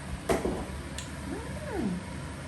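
A cat meows a couple of times, one rising-then-falling call standing out near the end, over a steady background hum in a home kitchen.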